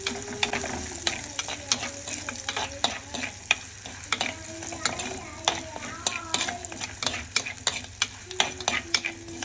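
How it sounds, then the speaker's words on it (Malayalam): Green chilies and curry leaves sauté in hot oil for a Kerala fish-head curry, a steady sizzle broken by frequent scraping stirs of a spoon against the pan, close and continuous without talk. "പച്ചമുളക്, കുറച്ച് കറിവേപ്പില ഇട്ടിട്ട് നമുക്ക് ഒന്ന് വഴറ്റിയെടുക്കാം."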